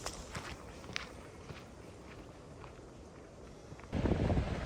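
Wind buffeting a microphone outdoors at Batemans Bay on the New South Wales coast, a low rumbling roar throughout with scattered footstep-like crunches, swelling into a louder gust near the end.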